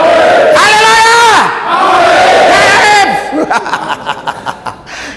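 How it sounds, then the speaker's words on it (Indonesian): A church congregation cheers and shouts praise to God at a police gathering in Manggarai, Ruteng, first as a loud sustained roar of many voices, then breaking into rhythmic bursts of shouting and clapping. "Berikan sorak-sorai buat Tuhan."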